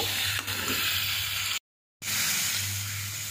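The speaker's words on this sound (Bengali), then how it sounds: "ভালোভাবে চিকেনটা ভেজে নেব।" Chicken frying in a kadai, giving off a loud, steady sizzle and hiss, interrupted by a short moment of total silence before the sizzling resumes just as strongly.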